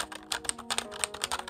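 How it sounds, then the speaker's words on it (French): Typing on a membrane computer keyboard, a quick, irregular run of soft, muted key presses close by, with no voices over it. "C'est un clavier à membrane,"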